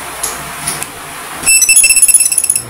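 A few faint clicks, then a Mili Mitag smart finder tracker powers on with rapid high-pitched electronic beeping pulsing close by for about a second.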